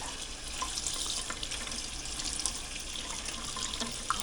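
Tap water runs steadily over minute rice (instant, pre-cooked) to wet it, a continuous close splashing hiss with occasional drips, no talking.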